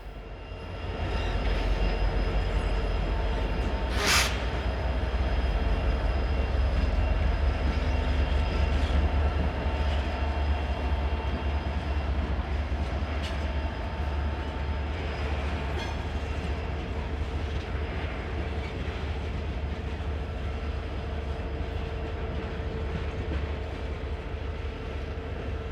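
Freight train with CSX, BNSF and Union Pacific locomotives leading, recorded in Kansas City, rumbling past steadily and loud for the whole stretch, with a brief sharp squeal or horn-like burst early on; no voices.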